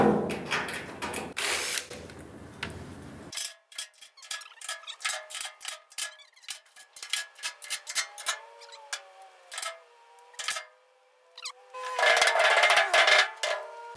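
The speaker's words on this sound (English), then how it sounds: "All right, let's get these screws out of here." A power drill backs screws out of a VW Karmann Ghia floor pan during restoration: after a loud burst of noise come repeated short, close whirring runs with squeaks and ticks, then another loud grinding stretch near the end.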